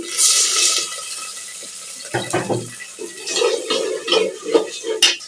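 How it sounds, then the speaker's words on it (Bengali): A little water is poured into a pot of frying ginger-garlic paste, cinnamon, cardamom and bay leaves, making a splashy pouring rush and hiss, followed by scattered clatters and scrapes of a spoon against the pot. "দিয়ে দিচ্ছি অল্প করে পানি।"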